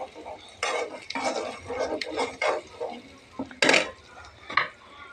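Shrimp dropped into a pan and stirred with a utensil while frying for a taro stolon dish, giving clattering scrapes and clinks against the pan in uneven bursts over a soft sizzle.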